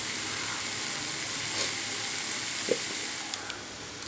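Diced potato, beans and capsicum fry in a pan with a steady, even sizzle, close and continuous, with a few faint clicks of stirring and no talking.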